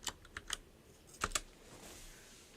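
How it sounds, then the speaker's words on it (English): A computer keyboard in a casual online hangout, with a few sharp keystrokes in short uneven bursts, then quieter clicking trailing off, fairly close but soft, with no talking. "we can't hear it because Hank's keyboard"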